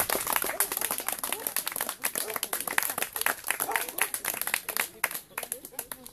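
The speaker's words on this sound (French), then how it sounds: "il faut l'applaudir" An audience applauds Christian Bouchet of the FN after his municipal campaign, with dense, uneven clapping and crowd noise running throughout and voices mixed in.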